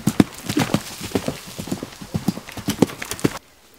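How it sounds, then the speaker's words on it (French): Horses' hooves clip-clop calmly on a film set behind the scenes, a steady run of sharp, close hoof knocks in uneven walking rhythm that stops abruptly at the end. "Ça pourrait être des chevaux de cinéma."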